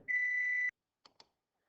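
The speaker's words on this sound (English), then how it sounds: "Hold on, I gotta turn off that timer." A kitchen-style timer gives one sustained electronic beep of about half a second, clear and close, followed by two short soft clicks as it is switched off.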